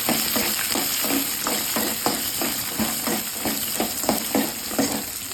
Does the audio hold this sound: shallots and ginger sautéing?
yes